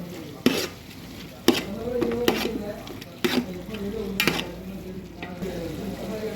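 Mutton pulao with yogurt, stirred in a pan: a soft steady sizzle under repeated sharp scrapes and clinks of a spoon against the pan at close range.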